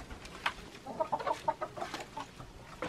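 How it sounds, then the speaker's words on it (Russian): Hens cluck in a garden at feeding time, a cluster of soft, close, rhythmic clucks and murmurs with no talk over them. "Здравствуйте, курочки."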